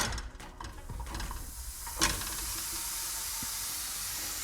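Khoya and powdered sugar roasting on a very low flame in a karahi, a soft steady hiss and sizzle with scraping stirs and one sharper clink.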